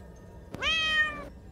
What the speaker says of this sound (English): So that just sets off the cat noise and I hate it.